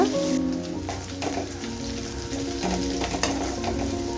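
Green chillies sizzle and fry with onions and garlic in a pan, a steady crackling hiss with occasional stirring clatters and scrapes close by, no voices.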